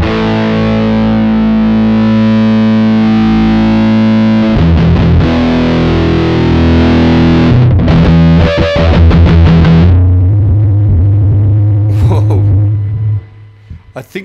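Heavily distorted electric guitar plays through a Joyo amp-sim pedal with the mid control turned up, a thick, woolly, muffled tone with sustained chords, then a low chugging passage that stops with a few short hits.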